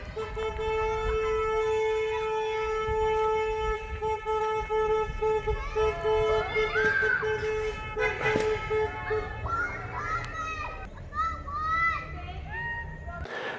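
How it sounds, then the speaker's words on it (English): Car horns honk loudly in a long held tone and then in shorter overlapping toots as a parade of cars drives past a house, with voices of people and children mixed in. "got in their cars, drove by our house, honked their horns"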